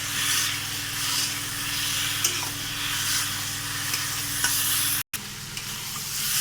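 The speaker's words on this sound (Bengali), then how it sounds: "হালকা করে আলুটা দিয়ে সুন্দরভাবে নেড়ে নিই" Parboiled potatoes stirred into a pangas fish curry in a hot pan give a loud, continuous sizzle with soft spatula scrapes and a brief cutout near the end.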